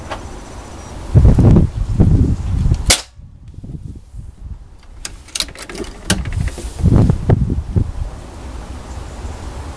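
Beeman air rifle shot, a single sharp crack standing alone near the middle, set among outdoor wind and rustling noise with other low thumps around it.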